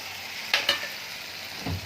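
Spices for mango pickle, with garlic and fenugreek, are tempered in hot oil, giving a steady soft sizzle broken by a couple of short stirring scrapes.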